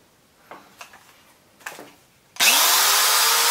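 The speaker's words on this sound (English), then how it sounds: "I use this to sharpen my chainsaw" An electric chainsaw sharpener, run from an ALLPOWERS S2000 Pro portable power station, starts after a few light clicks and handling taps and then grinds at a steady high whine, close and loud, to the end.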